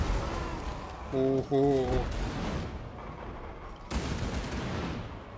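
Hell Cannon artillery fires during a Warhammer multiplayer battle, its heavy booming blasts rumbling amid the clamor of fighting, while a voice exclaims briefly over the din.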